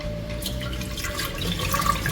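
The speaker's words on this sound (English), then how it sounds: "so I'm gonna throw the water off." Water poured off washed chicken feet and neck into a kitchen sink, a steady splashing, dripping stream that runs for a couple of seconds at moderate, close range with no talk.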